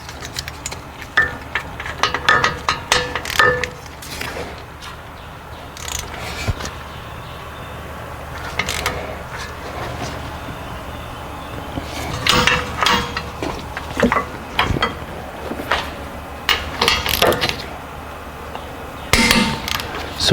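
Torque wrench clicking on an Acura MDX rear wheel bearing bolt, with a few sharp metallic clicks scattered among clanks of tools and workshop clatter.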